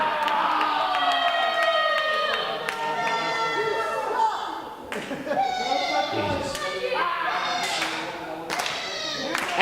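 A pro wrestling arena crowd cheers, claps and yells loudly and steadily throughout, with thumps from the ring and a commentator talking over the noise.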